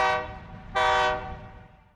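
A train on a nearby track sounds a loud horn in two long blasts, the second starting abruptly after the first and fading away, with rumbling underneath and no talk.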